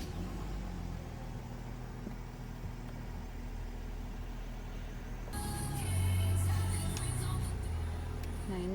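A 2017 Mercedes-Benz GLE Coupe 350 diesel starts by push button: steady low idle rumble, then the engine catches about five seconds in with a louder, deeper surge that settles into a close idle.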